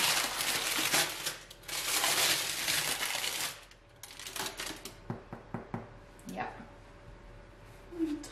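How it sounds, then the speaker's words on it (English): Baking paper crinkling and tearing as it is peeled off a freshly baked whole wheat sourdough loaf, close crackly bursts followed by scattered rustles and taps, with a voice talking. "now I'll take off this paper"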